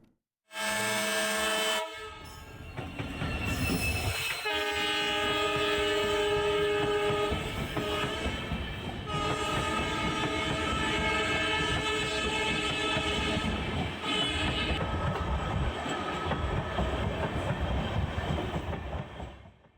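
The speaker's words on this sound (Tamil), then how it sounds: "தண்டவாளத்தில் ரயில் வருவது" A train rumbles loudly and steadily over the new Pamban rail bridge, with sustained horn blasts near the start and a continuous metallic clatter throughout, close by.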